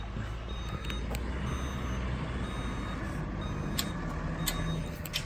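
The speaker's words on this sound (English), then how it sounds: "now our semi truck from the mobile home just showed up." A semi truck hauling a mobile home pulls in with a steady low engine rumble, while faint, evenly spaced reversing beeps chirp several times over the top.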